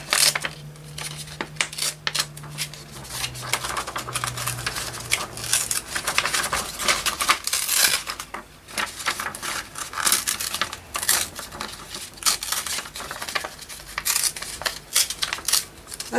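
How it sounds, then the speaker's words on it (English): Feathers being ripped out by hand from old craft supplies: repeated sharp tearing, crinkling and snapping bursts, close and fairly quiet, in an irregular rhythm. "Maybe let's just rip a couple of these feathers out here, because they do look rather nice"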